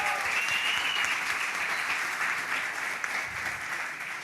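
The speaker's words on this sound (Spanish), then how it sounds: "Por favor, un aplauso para ella." A church congregation at an anniversary service applauds loudly and continuously, a dense wash of many hands clapping together close by, with no talking over it.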